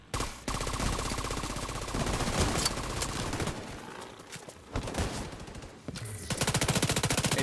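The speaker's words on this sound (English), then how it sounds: "I love the sound of a headshot." Rapid automatic gunfire with headshot hits in the shooter game The Division 2, loud sustained bursts with brief breaks and clattering impacts, no voices.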